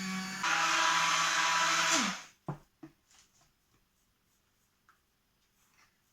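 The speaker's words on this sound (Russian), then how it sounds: "Поработаем блендером теперь немножко." A blender mixing honey and soured milk whirs loudly and steadily for about two seconds, then stops abruptly, followed by a few clunks and light clatter.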